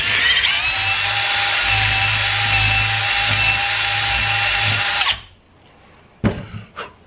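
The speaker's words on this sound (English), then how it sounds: "So I got to bore that out just a smidge to get that bolt through there" Power drill boring out a bolt hole in a motorcycle bracket: a loud, steady whirring grind for about five seconds that cuts off, followed by a couple of sharp metallic knocks.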